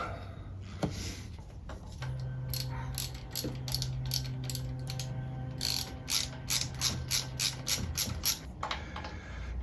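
A ratchet tightens a bolt on the belt tensioner of a 1998 Corvette C5, with bursts of quick rapid clicks that come faster and denser toward the end, close and clear over a low hum.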